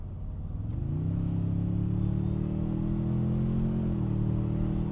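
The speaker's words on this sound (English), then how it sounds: "I'm not exactly sure if you guys can hear the sound when I step on the gas" A Toyota TRD Pro's engine rumbles low, then rises into a sustained rev as the gas is pressed, holding a steady deep drone from inside the vehicle before easing slightly near the end.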